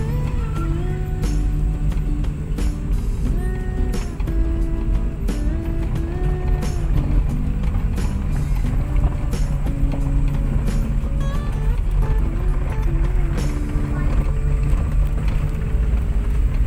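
A Chery QQ small car's engine strains on an uphill climb at about 1700 rpm, a steady loud low drone with road rumble and no talking.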